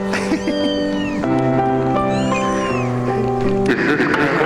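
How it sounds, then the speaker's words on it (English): Several young kittens meow for their mother, overlapping high plaintive cries that rise and fall continuously, close and fairly loud. "They're meowing for their mama"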